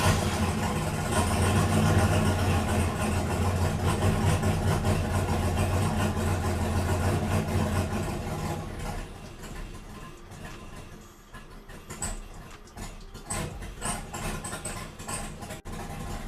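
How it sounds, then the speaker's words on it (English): Turbocharged truck engine idling rough after a new MAP sensor install, a steady low rumble that holds loud for several seconds, then dips and grows uneven with faint mechanical ticks near the end. "Definitely runs rougher with the new map sensor."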